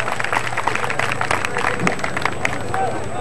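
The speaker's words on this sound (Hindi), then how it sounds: "एक बारी ताली मार दे जोरदार" Spectators at a kabaddi tournament in Talwandi Bhai, Punjab, clapping loudly in a dense, continuous patter, with crowd babble and a commentator's voice mixed into the applause.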